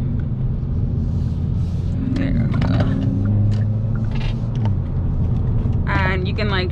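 A 2022 Kia Forte GT Limited with a 7-speed dual-clutch gearbox drives in sport mode, its engine a steady low rumble heard from inside the cabin, with a voice talking over it.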